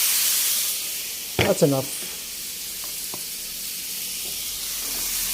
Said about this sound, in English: Then add the teriyaki sauce.